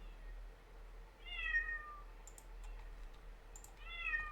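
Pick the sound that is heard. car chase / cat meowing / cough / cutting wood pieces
cat meowing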